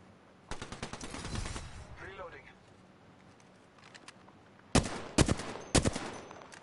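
Apex Legends gunfire comes as two loud bursts of rapid automatic shots, one early and one near the end, with game effects and talk in between.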